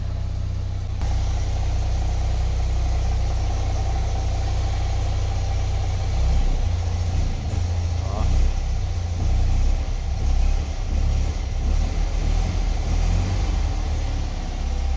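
An old Fiat 126p engine idles steadily nearby, a low continuous rumble that thickens slightly partway through, with no voices.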